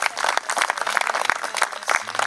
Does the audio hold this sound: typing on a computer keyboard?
no